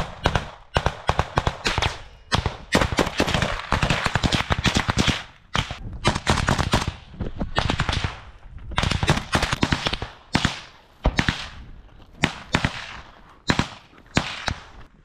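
Loud bursts of automatic machine gun fire in a close firefight near Andriivka, rapid cracking volleys repeating across the whole stretch with only brief pauses between them.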